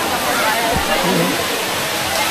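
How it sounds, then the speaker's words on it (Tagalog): Waterfall roaring in a steady, dense, loud rush of falling water heard up close, with a person's voice faintly mixed in under the constant noise. "Ayun pala ang falls."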